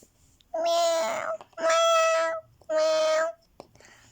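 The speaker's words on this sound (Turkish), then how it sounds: "yavru bir kedi." A kitten meows three times, each cry long, high and plaintive, separated by short pauses in an otherwise quiet space.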